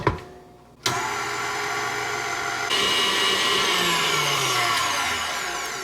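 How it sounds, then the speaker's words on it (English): Electric hand mixer whipping heavy cream with powdered sugar for a tiramisu cheesecake topping: after a short quiet start, the motor kicks on and holds a steady, loud whirring drone that brightens partway through, running alone without talk. "This is the heavy cream, the powdered sugar, and we're going to mix this."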